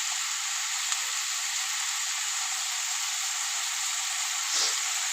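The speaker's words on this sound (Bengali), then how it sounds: "ব্যাস আমি ভালো করে ভেজে নেব।" Potatoes fry in a pan of oil for aloo posto, giving a steady, even hiss of frying that stays constant and close, with one brief soft bump near the end and no talking.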